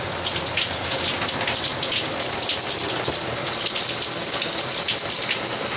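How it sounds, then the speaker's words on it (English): Steady, dense hiss of heavy rain pattering constantly on a dry bag close by, with no breaks and no voices. "you can see that it is raining all over it"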